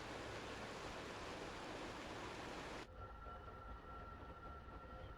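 A StarCraft 2 train rumbles loudly as a dense, broad roar that cuts off abruptly partway through, leaving a quieter hum with steady tonal whines.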